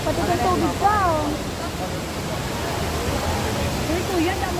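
Ambon-Ambon Falls in Panguil, Laguna, a steady broadband rush of falling water, close and constant, with voices talking and calling over it near the start and briefly again toward the end.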